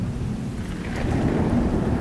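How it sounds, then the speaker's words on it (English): Video game weather plays with steady rain hissing and a low rolling rumble of thunder swelling beneath it. The storm ambience is continuous and there is no speech. "This will be interesting since it's raining like."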